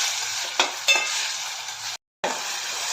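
Chopped tomatoes sautéed in a pan for Marathi aaran give a steady close sizzle with a couple of spatula stirs and scrapes, then a brief cut to silence before the frying resumes.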